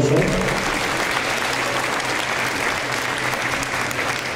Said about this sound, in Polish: Jeszcze raz dużo oklaski.